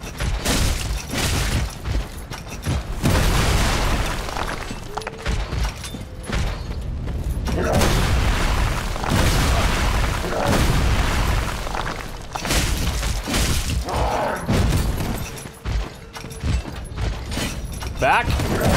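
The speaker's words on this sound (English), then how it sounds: "I'm worried about these exploding barrels" Explosive booms and bursts from barrels blowing up in Dark Souls 3 gameplay, loud and repeated throughout amid clanking combat mechanisms and creaks, with a steady dense rumble underneath.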